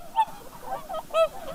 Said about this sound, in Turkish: 600'den fazla kuğu Manasi Gölü Parkı'na sığındı.